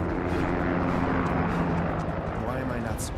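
Several helicopters in Final Fantasy VII Remake fill the scene with a dense, steady rotor and engine roar that stays loud throughout.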